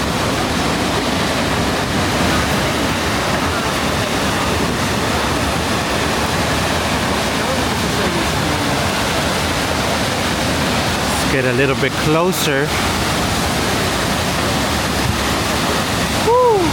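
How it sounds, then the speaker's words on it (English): Multnomah Falls in Oregon roars as a steady, loud broadband rush of falling water on a foggy day, continuous throughout with brief speech and a short whoop heard over it. "that's the main waterfall"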